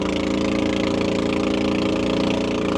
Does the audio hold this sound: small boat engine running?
yes